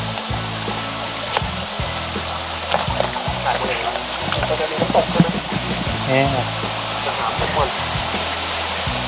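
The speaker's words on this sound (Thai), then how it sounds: "ข้างบนเราก็จะเป็นน้ำตกเป็นชั้นๆไปเลยนะครับ" Tiered waterfall beside a large rock ledge on a campsite trip in Rayong, Thailand: steady rushing water runs throughout, with footsteps, scuffs and a voice heard intermittently over it.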